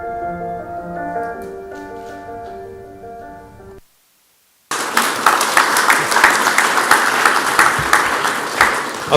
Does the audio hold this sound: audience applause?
yes